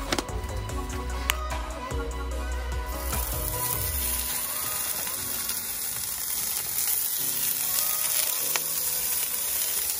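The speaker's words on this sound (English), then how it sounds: "we put the langusta, this one, on the other side of the grill" Langusta placed on a hot grill, a loud dense sizzle that starts with clanks and handling thuds, then settles into a steady hiss for several seconds.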